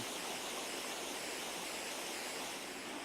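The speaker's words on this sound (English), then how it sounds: "Waterfalls like this near Big Island's capital, Hilo, are fed by the second highest rainfall anywhere in the United States" A waterfall near Hilo on Hawaii's Big Island roars in a dense, steady, unbroken rush of water, loud and close with no other sound.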